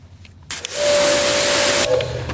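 An EGO Power+ pressure washer starts up and sprays a steady, loud hissing jet of water onto a wheel, running continuously after a brief mechanical click at the start.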